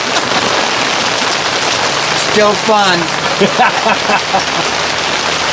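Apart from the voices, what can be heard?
rain falling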